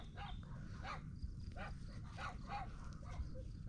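A dog whimpers and yips in short, repeated calls over a steady low rumble of background noise, a little distant.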